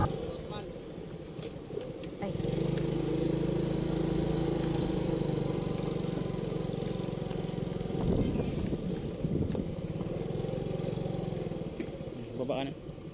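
A motorcycle carrying riders out toward a parking lot gives a steady, fairly loud engine drone that starts after a brief quieter moment and holds through the ride, with a few bumps and rattles along the way.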